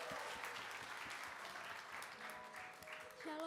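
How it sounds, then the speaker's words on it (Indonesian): A church congregation at GBI Sukacita Bandung applauds during a service for departing campus members, with steady, faint, distant clapping that continues throughout. A brief tone enters near the end. "Yuk kita berikan tepuk tangan."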